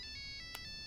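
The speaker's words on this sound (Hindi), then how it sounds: "अरे फोन है। अरे मेरे पास फोन है।" A mobile phone ringtone chimes in short, bright repeating bursts, ringing steadily at moderate level for under a second with a faint low background hum.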